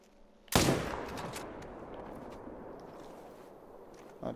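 In a hunting video game, a single rifle shot cracks out sharp and loud, then trails into a long, slowly fading echo across open ground. A faint knock follows near the end.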